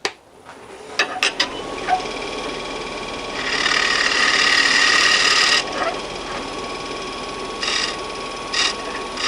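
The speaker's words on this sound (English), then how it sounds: "I'm going to switch to a scraper. Try and clean up this area right down in here." A wood lathe spins a natural-edge winged bowl while a scraper cuts into the wood, giving a steady whir with a louder rasping hiss in the middle and a few short scraping bursts later.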